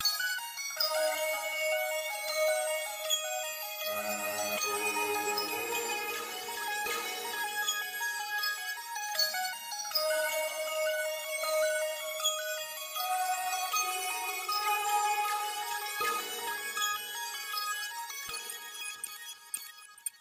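Bright synth melody from an FL Studio production, processed with micro shift, light flanger and EQ, playing steady layered notes with shimmering highs for about twenty seconds, no voices.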